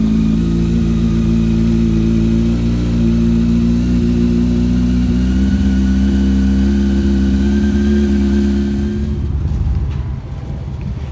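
A Nissan Skyline R32 engine after a cold start, idling loud and close with a steady high-revving drone that drops and roughens near the end, no voices.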